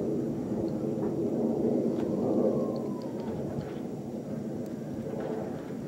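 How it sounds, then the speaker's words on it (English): Military jets with afterburners roaring overhead at night above a town, a faint, distant, continuous low rumble that swells slightly midway before settling into a steady drone. "Got the sound of jet engines in the air,"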